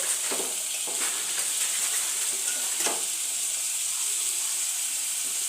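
Half a kilo of broad beans (chikkudukaya) simmer and fry in a tomato curry, a steady hissing sizzle close by, with a few soft stirring scrapes near the start and just before the three-second mark.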